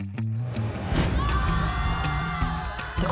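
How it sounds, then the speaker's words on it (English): Crowd applause and cheering at a beauty pageant in an animated story, a dense, continuous wash of clapping and shouts with a few louder peaks. "The crowds laughing beyond their applause."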